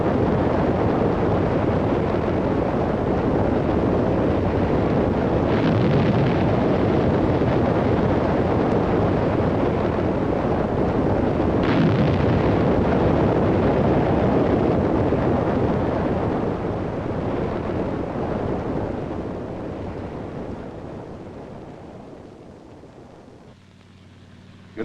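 A missile is blown up on the launch pad by a destruct charge, heard as a sustained, dense roaring rumble that stays loud for some fifteen seconds before slowly fading away.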